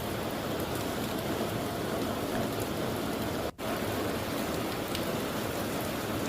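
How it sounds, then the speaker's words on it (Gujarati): Dense, steady monsoon downpour of heavy rain in Dang, Gujarat, hissing evenly throughout, with one abrupt momentary dropout midway. "ડાંગમાં પણ ભારે વરસાદ જોવા મળી રહ્યો છે।"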